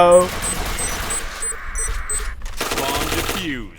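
Rapid bursts of automatic gunfire from the Point Blank online shooter game, loud and close, with a short break before another sustained volley; voices are heard over the shooting.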